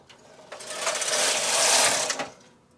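A knitting machine carriage is pushed across the needle bed knitting mock moss stitch, giving one continuous mechanical whirring rattle that swells and then fades over about two seconds.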